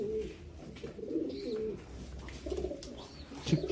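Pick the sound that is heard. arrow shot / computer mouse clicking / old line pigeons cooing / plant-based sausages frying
old line pigeons cooing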